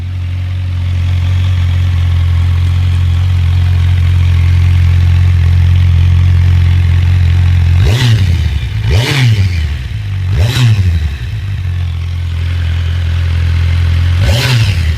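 Stock-exhaust 2023 Kawasaki Versys 1000 SE motorcycle idling close by, then given four sharp blips of throttle that rise and fall quickly, each rev distinct, with no talking.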